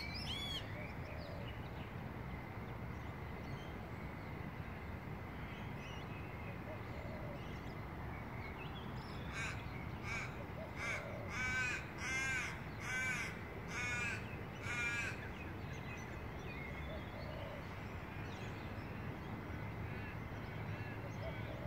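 Several crows caw in a rough burst of calls over steady outdoor background noise, a few harsh repeated caws clustered together at moderate distance.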